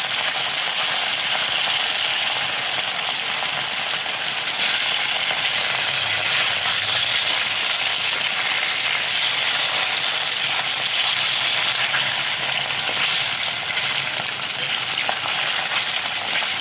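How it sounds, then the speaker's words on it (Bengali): Fish fry in hot oil in a kadai, a steady, loud, close sizzle and crackle that runs unbroken throughout with no voices over it. "তো চলো মাছগুলো ভেজে নিই"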